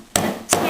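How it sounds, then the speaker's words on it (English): Two sharp hammer taps seating carriage bolts while assembling a sewing cabinet, about a third of a second apart, close and clear. "take your hammer and tap"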